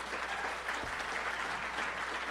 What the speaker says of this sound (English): Please welcome to the stage with applause.